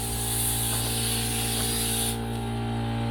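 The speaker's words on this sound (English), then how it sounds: "That's the compressor noise in the background" A steady, loud mechanical hum and hiss from a running air compressor fills the space, droning continuously with no talking.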